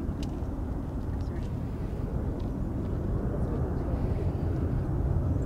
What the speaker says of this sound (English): Ooh, a Challenger 350